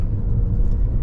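A car driving through countryside near El Yunque, Puerto Rico, a steady low rumble of engine and road noise heard from inside, continuous and fairly loud with no pauses.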